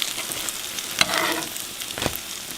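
French toast sizzles in a non-stick skillet, a soft, steady crackle with a couple of brief louder spits and stirring scrapes, close and alone.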